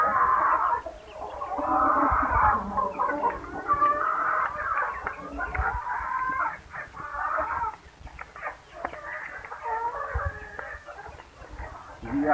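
Hens cluck and chatter steadily on an organic integrated farm, a busy flock heard close up with overlapping calls, while someone talks over them.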